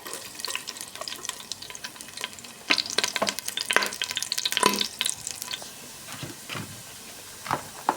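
Garlic sautés in a pan for a clam dish, giving a close crackling sizzle with bursts of spatter and stirring scrapes that swell midway and then settle.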